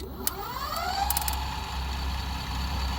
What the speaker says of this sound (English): if you lift my wife's bike up in the air and you give it throttle